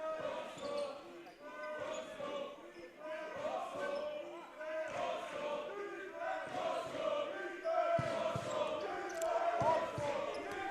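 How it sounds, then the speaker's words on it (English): An ecstatic crowd roars and cheers at an amateur basketball game between Sheffield College and Manchester Magic, sustained and loud throughout, with a commentator talking over the noise. "I'm not sure if you can hear, but the crowd are ecstatic"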